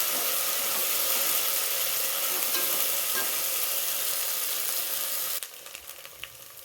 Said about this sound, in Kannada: ಇದನ್ನ ಹಾಕಿ ಸ್ಮೆಲ್ ಹೋಗೋವರೆಗೂ ಫ್ರೈ ಮಾಡ್ಕೋಬೇಕು